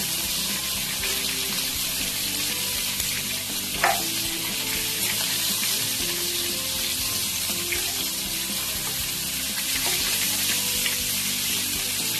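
Giant freshwater prawns sizzle in hot oil in a pan, a continuous close frying hiss with occasional stirring and utensil scrapes.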